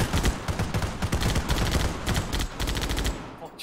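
Sustained gunfire in a Halo-themed video game: rapid repeated shots rattle continuously for several seconds, loud and close, in uneven automatic bursts before cutting off.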